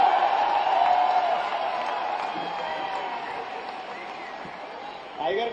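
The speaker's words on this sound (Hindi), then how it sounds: "एक बार उठ जाए स्टेडियम, जोरदार तालियों के साथ" A stadium crowd at a poetry gathering (kavi sammelan) in Raipur applauds and cheers a poet, a sustained wash of clapping that swells, then slowly thins, with a voice cutting in near the end.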